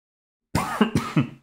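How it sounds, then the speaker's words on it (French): A single close, sharp cough breaking into three or four rapid throaty bursts, with a rough throat-clearing quality. "j'ai résisté 45 minutes avant de tousser"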